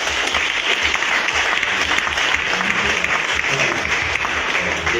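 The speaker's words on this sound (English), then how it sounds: "give them a huge hand clap for their support" An assembled crowd in Liberia gives a big round of applause for county legislative supporters, dense continuous clapping that stays strong and even for the full five seconds.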